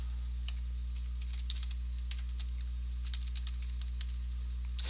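Quiet, steady clicking of keys on a computer keyboard in irregular bursts, heard close over a constant low electrical hum with no talking.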